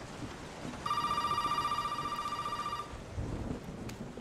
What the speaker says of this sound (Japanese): 電話鳴ったよ。